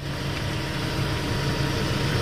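Car engine idling at night near a mountain stream, a steady low rumbling hum heard close and constant for a couple of seconds, with no talking.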